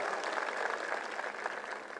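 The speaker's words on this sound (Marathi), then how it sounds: "संजय गांधी निराधारच्या कार्यकर्त्यांच्यासाठी टाळ्या वाजवून त्याचं अभिनंदन करा" Audience members clap to congratulate Sanjay Gandhi Niradhar scheme workers at a political speech, a steady rattle of applause heard from a distance and fairly faint.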